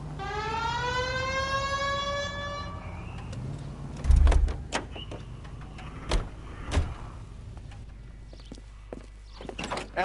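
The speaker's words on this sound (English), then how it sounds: "Hit the siren." A police car siren in the L.A. Noire video game wails in rising sweeps for about three seconds, then cuts off, followed by a heavy thump, door clunks and scattered vehicle noises.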